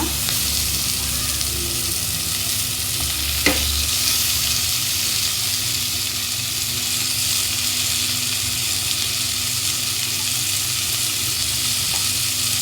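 Onions and tomato fry in a pan with salt, making a loud, continuous sizzle and hiss with a single sharp clink partway through, no talking.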